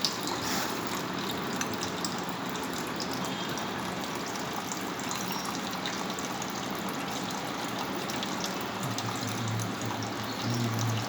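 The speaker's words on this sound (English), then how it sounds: "transfer all the water into the up to the neck of that standard measuring flask" Water pours steadily into a glass standard measuring flask, filling it up to the neck, a continuous close splashing and gurgling that holds at an even level throughout without pauses.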